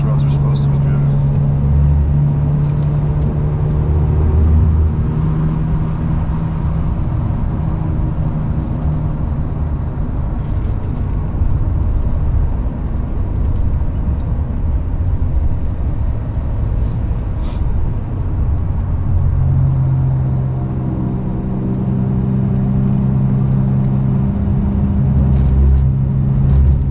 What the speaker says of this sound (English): I drive this road in my car how I'd love to drive it in my motorcycle.